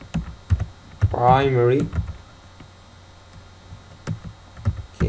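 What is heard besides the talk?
typing on a computer keyboard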